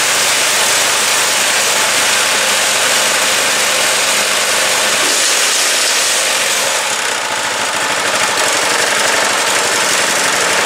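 A Predator 212cc gasoline engine on a snow blower runs close up at a steady idle, loud and buzzing with a rapid even chug and no other sounds.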